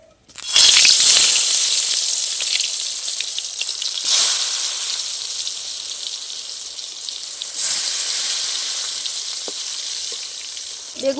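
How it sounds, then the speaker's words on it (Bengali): Eggplant slices dropped into hot oil in a wok, frying in a loud, steady sizzle that swells at moments as pieces are added or moved, with no talking. "এবার বেগুনগুলো আমি ভেজে নেব।"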